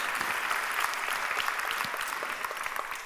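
Audience applause for a volunteer named Élie at a live show, a dense steady wash of many hands clapping at once that holds for the whole stretch and tapers slightly toward the end.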